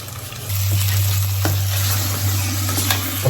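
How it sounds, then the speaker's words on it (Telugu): Chicken for a curry sizzles loudly in a hot pan while being stirred, a continuous dense frying hiss with occasional utensil scrapes and a steady low hum beneath. "ఒకసారి అయితే మంచిగా కలుపుకోవాలి"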